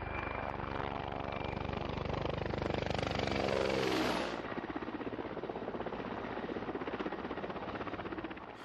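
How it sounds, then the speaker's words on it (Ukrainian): Military transport helicopters during a paratrooper exercise, a loud rotor roar with pulsing blade chop that swells then drops as one passes close overhead, continuing steadily afterward. "Десантники спускаються на канатах з військово-транспортних вертольотів."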